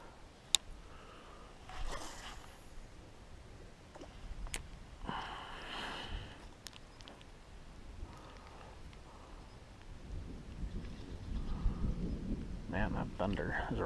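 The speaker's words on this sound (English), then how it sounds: "that thunder is a rumbling" Low thunder rolls faintly across a mountain valley beside an upper lake, a distant muffled rumble under quiet outdoor ambience with a few small nearby rustles and clicks.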